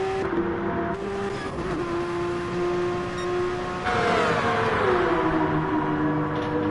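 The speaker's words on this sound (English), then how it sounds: "What a sound this car makes." A race car engine in a racing video game at Fuji drones loudly and continuously, its pitch shifting with revs, surging louder and sweeping downward near the end.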